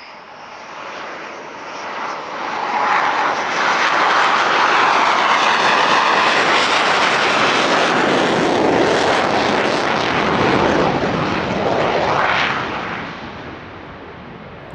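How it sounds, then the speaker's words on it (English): Two Dassault Rafale fighter jets in a naval aviation tactical demonstration at the Villaroche airshow, a loud continuous jet roar that builds within the first few seconds, holds steady and fades slightly near the end, with no voices. "The final act of the Aeronaval display saw the return of two out of the three Rafales for their regular tactical demonstration."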